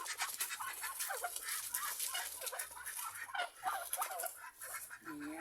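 A backyard flock of chickens on a rural Philippine farm cluck and chatter continuously, several birds overlapping in quick, fairly faint calls with no talk.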